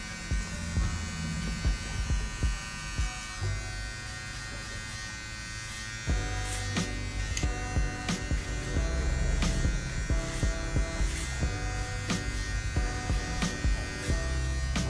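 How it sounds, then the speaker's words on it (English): An electric hair clipper buzzes while cutting hair over a comb, a close, steady drone broken into short bursts as strokes start and stop, with faint comb and handling noises between passes. "Clipper over combing is honestly a technique that everybody needs to master."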